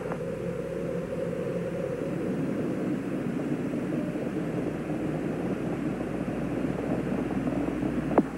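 Space Shuttle Challenger's engines thunder during launch ascent, a continuous broad roar heard from a distance, steady and unbroken for several seconds.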